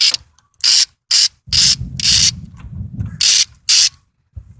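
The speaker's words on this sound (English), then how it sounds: "I got in my hands here an 8mm socket, and that's what I'm going to use to take off the hose clamp" An 8mm socket ratcheting to loosen a radiator hose clamp on a 1996 Honda Civic, loud bursts of rapid clicking in separate strokes with brief pauses, close by, with a lower scraping rumble in between.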